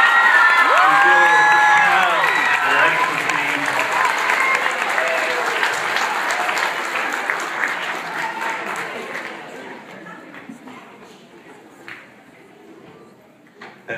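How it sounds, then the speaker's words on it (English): Loud applause, cheering and whoops from a school talent show crowd, with children shouting over the clapping; it stays strong for several seconds, then tapers into scattered claps and quieter noise near the end. "I want a big round of applause for everybody out here"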